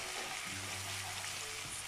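Ginger garlic paste and green chillies frying in hot oil, a steady, soft broadband sizzle filling the whole stretch with a faint low hum beneath.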